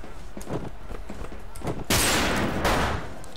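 Gunfire in a first-person shooter game: a few sharp nearby shots followed by two loud, longer bursts of rapid fire, with a player's voice talking over the action.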